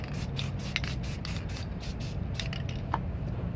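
Black spray paint misted onto a spray-paint landscape painting makes short, soft bursts of airy hiss with brief gaps between them, fairly faint and close.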